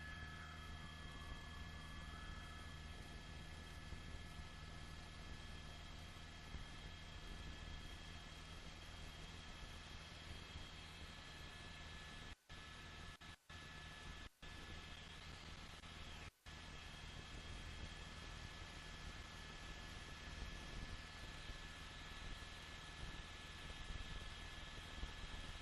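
A California Highway Patrol helicopter hovers overhead during a police chase in Los Angeles, making a faint, steady droning whir with a constant engine hum that continues without a break and with no voices.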